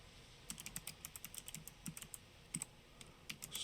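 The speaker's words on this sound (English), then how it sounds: "We gotta actually type it in." Computer keyboard keys tap in quick, irregular bursts of clicks while a filename is typed during audio-library metadata work, close up and quiet, with brief pauses between groups of keystrokes.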